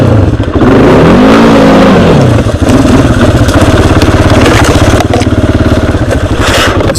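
A Kawasaki Brute Force 300 ATV climbs over an obstacle off-road, its engine roaring loud and close as the revs rise, dip and surge again, with a continuous rough throttle drone throughout.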